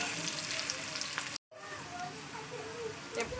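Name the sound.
onion frying in a pan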